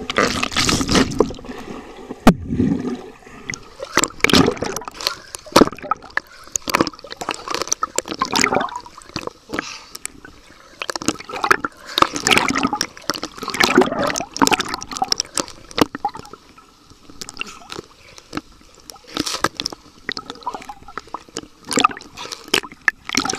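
Muffled underwater sloshing and bubbling in a swimming pool during laps, with irregular bursts of liquid churning and gurgling, close and fairly loud throughout, no talk.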